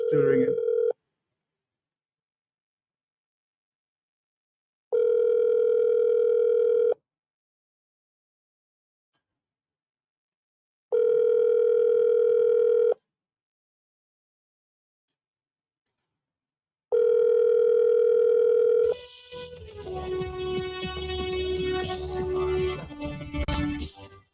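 A phone ring tone sounds three times in evenly spaced bursts with silence between, then a busier tonal sound follows at the end.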